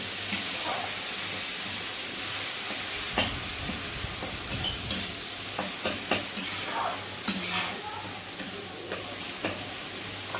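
Chili powder, turmeric and spice paste fry in oil in a pan for a Bengali pabda fish dish, giving a steady close sizzle and hiss, with scattered sharp scrapes and taps as the mixture is stirred.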